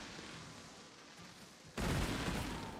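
Fireworks explode in the video game Planet Coaster 2, with a dense wash of crackling bursts swelling suddenly to a loud, sustained barrage after a quieter stretch of ambient park noise.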